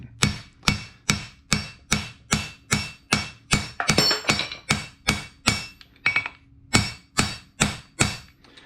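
A hammer strikes metal while forging a copper and wrought iron coffee scoop, roughly eighteen sharp, ringing blows in a steady even rhythm at close range, with a brief burst of clinking partway through.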